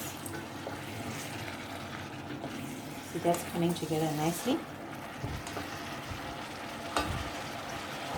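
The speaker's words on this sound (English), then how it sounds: "I'll give it a quick mix." Cabbage curry stirred in a cooking pan as it cooks in its own released water, with a soft scraping and sizzling stretch in the middle, heard under a person speaking.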